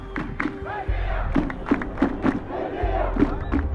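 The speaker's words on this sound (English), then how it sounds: "Crowds chanted slogans from the Arab Spring revolutions of 2011" Crowd of protesters in Sudan chanting slogans in unison, a rhythmic mass of voices with repeated shouted beats, loud and close, building into a roaring street demonstration.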